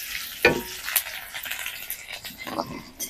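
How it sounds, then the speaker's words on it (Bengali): Sizzling and crackling as dried red chillies and crushed garlic fry in oil, with a few sharp clinks of a utensil stirring the pan, close and brief. "একটু ভেজে নিব"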